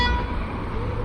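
Car horns beeping in support of a protest in a public area, a continuous honking tone with steady road traffic noise running underneath for the full second.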